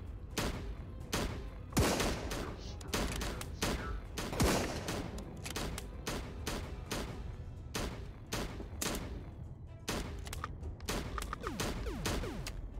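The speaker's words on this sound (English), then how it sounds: "Somebody's shooting them." Gunfire in the VR shooter Cactus Cowboy: Plants at War, a World War II-style battle, with rapid bursts of sharp shots cracking in irregular clusters across the clip, some near and loud, others more distant.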